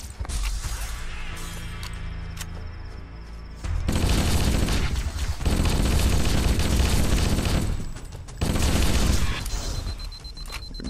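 Assault rifle fire in the video game Halo: Combat Evolved, dense rapid automatic bursts that hammer loudly in long stretches, broken by brief pauses and mechanical clatter, close and harsh.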